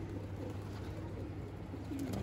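Soft, low pigeon cooing murmurs steadily through a quiet outdoor background, faint and continuous.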